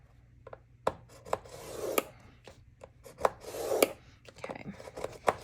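A scoring tool drags firmly across paper in several separate rasping strokes with small taps between them, close up and fairly loud, with no talking.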